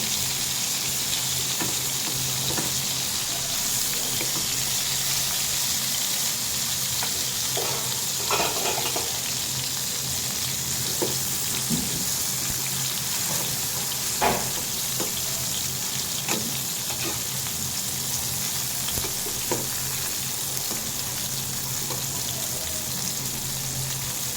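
Eggplant slices fry in a pan for a Bengali begun bhaja, giving a steady, loud sizzle throughout with a few faint scrapes and taps as the pieces are turned, close up and without speech.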